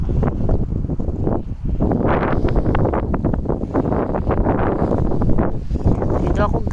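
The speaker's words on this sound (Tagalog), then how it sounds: "Medyo mahangin, diba, oh." Gusty wind buffets loudly across the microphone in continuous rough bursts, with a voice speaking underneath.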